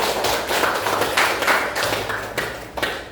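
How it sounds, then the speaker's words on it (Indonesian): Schoolchildren in a classroom clap their hands together at the end of a lesson, a dense burst of close, brisk applause that keeps a fairly even rhythm for about three seconds. "Tepuk tangan kita semuanya."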